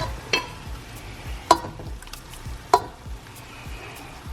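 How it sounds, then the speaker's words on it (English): Pasta sauce cooks in a hot pan with a faint sizzle underneath, while a utensil scrapes and knocks against the pan in a few sharp strokes. "I'm gonna take my sauce and add it to my pan."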